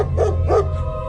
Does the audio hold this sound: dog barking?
yes